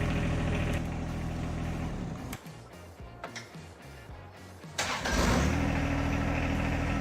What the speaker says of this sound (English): this is the real 1025R engine sounds